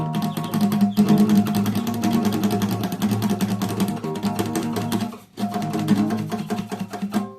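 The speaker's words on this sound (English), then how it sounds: "But if you barely mute it, you can get weird noises." Strummed guitar with partially muted strings produces buzzy, percussive tones in a steady rhythm, with two brief pauses between passages.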